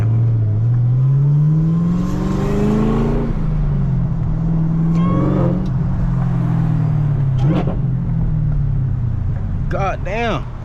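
Chevrolet Camaro ZL1 with a 6-speed manual, driven through a small town, its engine rumbling and revving loudly through gear changes, with someone talking over it inside the car.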